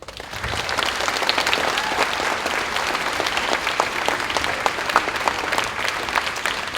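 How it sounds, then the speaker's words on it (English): An audience at a fifth grade moving up ceremony applauds four speakers returning to their seats, a sustained wash of crowd clapping with scattered sharper claps, steady and fairly loud throughout. "Can we give our four speakers a round of applause as they head back to their seats?"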